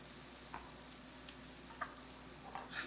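Hash browns made from fried potatoes cook in a pan with a faint, steady sizzle, broken by a few soft clicks and scrapes, quiet and heard alone without talk.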